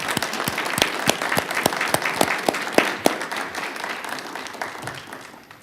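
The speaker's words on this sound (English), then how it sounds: "Let's clap for that." An audience at a Board of Fire Commissioners meeting claps together, with sharp distinct claps at first that blur into a thick wash of applause and then slowly fade.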